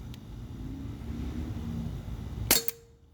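A Glock 17 Gen 5 T4E .43 caliber paintball pistol fires a single sharp shot over a low background hum, followed by a short fading ring.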